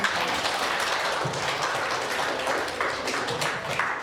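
Students clapping together in a classroom, a dense, steady patter of applause lasting several seconds at an even level, fairly close.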